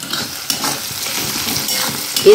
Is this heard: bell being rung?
no